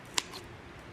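Scissors cutting a Dollar Tree craft piece in half give a single crisp, close snip in a quiet room, with no voices.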